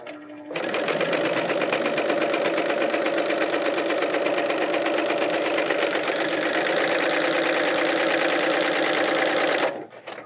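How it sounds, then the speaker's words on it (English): A Bernina L890 serger runs fast at a long stitch length, stitching a fabric strip in one steady, close, loud whir that holds for about nine seconds before stopping. "Now I'll take my strip of fabric, place it underneath the foot, and serge"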